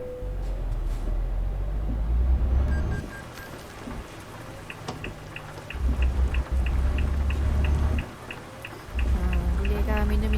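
Steady rain patters on a truck cab in Euro Truck Simulator 2 on a drive from Debrecen to Genoa, a continuous wash over a low engine rumble with a repeating beeping signal.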